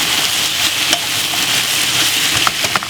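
Cabbage sizzles loudly in a hot pan while being stir-fried, a constant close frying hiss broken by a few light scraping clicks of the stirring utensil.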